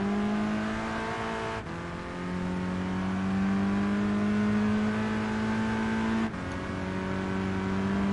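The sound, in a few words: Volkswagen Scirocco engine revving in video game Gran Turismo Sport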